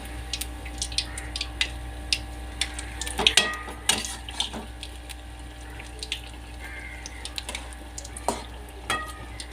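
Banana fritters (pazhampori) fry in hot oil. A soft, steady sizzle runs beneath frequent sharp clicks and scrapes from a utensil in the pan, all close and moderately quiet, with no talking.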